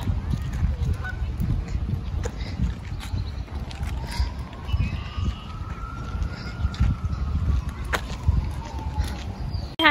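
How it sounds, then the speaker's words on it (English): Canada geese honk beside a lake, a few scattered calls at moderate distance over a rumbling outdoor background, with a faint engine-like drone passing through. "Did you see the Canadian geese?"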